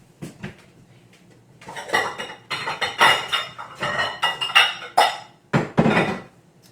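Bowl and dishware clatter in a home kitchen while a paleo pear tart is prepared: a run of close clinks, knocks and scrapes of a mixing bowl and utensils, irregular and fairly loud, with no talking.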